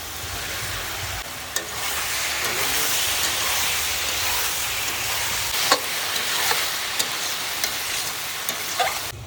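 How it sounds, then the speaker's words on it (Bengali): Potatoes are stirred and fried in cooked-down spice masala with oil for a thin egg curry, giving a steady loud sizzle throughout, broken by occasional sharp scrapes of the spoon against the pan. "এবার আলুগুলো দিয়ে কষাবো"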